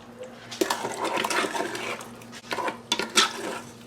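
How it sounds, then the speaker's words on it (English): A spoon stirs food in a pot, giving soft scraping and clinking against the metal over a low steady hum, with a few sharper knocks toward the end and no voices. "But we are just going to stir this."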